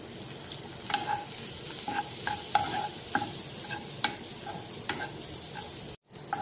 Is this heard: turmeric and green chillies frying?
yes